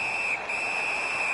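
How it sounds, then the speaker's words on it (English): A referee's whistle in an ice hockey video game blows one steady, shrill, loud blast with a brief dip partway through, heard on its own with no talk. "the whistle stops play"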